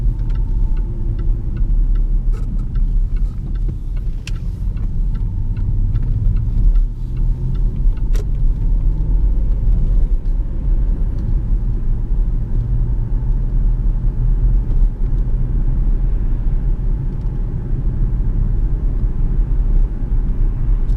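A Jaguar XF 5.0 V8 S accelerates hard in sport mode. From inside the cabin comes a loud, steady low engine rumble with road noise, plus faint clicks from the interior and no talking.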